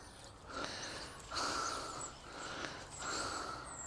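An animal sniffing and snorting in short bursts close by, soft breathy puffs repeating about every second with no talk over them.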